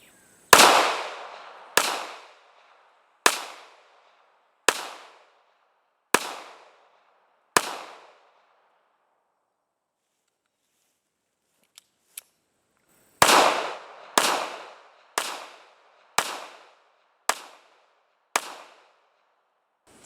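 A Ruger LCP pistol fires at a target about eight to ten yards away, two sharp bursts of roughly six evenly spaced loud shots each, separated by a quiet pause with faint clicks.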